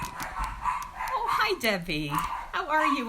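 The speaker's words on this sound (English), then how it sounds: "Sorry about the dogs." Several house dogs bark, yip and whimper in short rising bursts close by, mixed with a woman's friendly greeting during a home card-stamping session.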